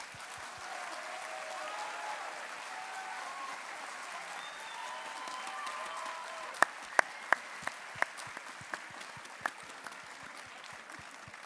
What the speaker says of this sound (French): maintenant les applaudissements, c'est pour eux